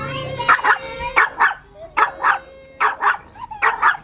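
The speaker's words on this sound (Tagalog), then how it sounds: "Maliliit na mga aso pero ang tatapang nila." Chihuahuas yapping in quick, high-pitched bursts, several barks in a row, close and loud, with pauses between volleys.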